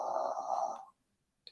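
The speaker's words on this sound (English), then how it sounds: "Is somebody snoring?" A sleeping woman gives one rasping snore lasting nearly a second, faint and close, followed by silence and a small click.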